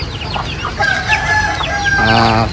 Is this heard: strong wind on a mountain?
no